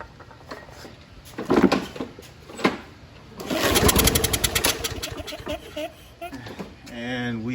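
A worn, neglected Toro Personal Pace self-propelled lawn mower with a small petrol engine, cranking and sputtering before catching into a rough, loud running drone, with a voice talking over parts of it.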